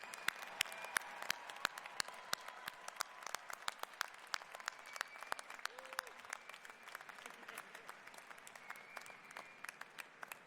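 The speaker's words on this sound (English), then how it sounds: "join me in a round of applause to congratulate the class of" A round of applause for the graduating class at a university commencement ceremony, scattered distinct claps from a large seated crowd in a big hall, steady and moderately distant for about ten seconds.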